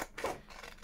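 Scissors cutting through a clear acetate sheet, a single short quiet snip close by, with nothing else around it.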